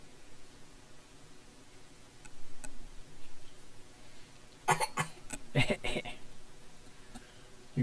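A child coughs in a quick cluster of sharp, close bursts over a quiet room with faint ticking, during a cartoon-drawing session.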